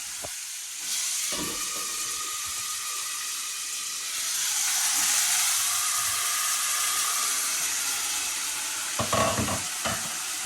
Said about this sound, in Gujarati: અને હવે નાખીશું બટેકા.